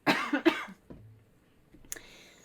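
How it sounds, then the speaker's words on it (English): A sharp cough bursts out twice in quick succession, close and loud, followed by quiet shuffling and a brief higher-pitched sound near the end. "I just have to cough."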